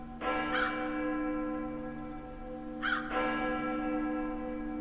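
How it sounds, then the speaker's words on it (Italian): Crows caw from atop a building in a bombed-out, war-ruined setting within a liminal exploration video game, two harsh caw bursts a few seconds apart over a steady tonal hum, fairly distinct with no talking. "ci stanno tipo dei corvi lì sul palazzo"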